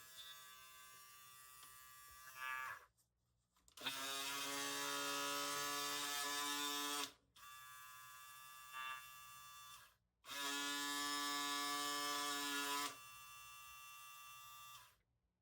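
A JRL Onyx electric shaver runs in three long, steady buzzing bursts separated by short pauses, close and fairly quiet, with no talking.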